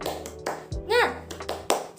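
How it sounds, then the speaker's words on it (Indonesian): A teacher leads a classroom spirit clap, with sharp hand claps in a short rhythmic pattern broken by a brief vocal shout between them. "Ibu akan memulai pelajaran ini dengan tepuk semangat"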